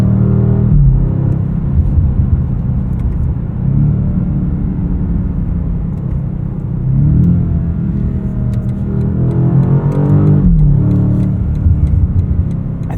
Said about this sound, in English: I think this V8 sounds like a combination of a 3-cylinder, a 4-cylinder, a 6-cylinder, and an 8-cylinder all together.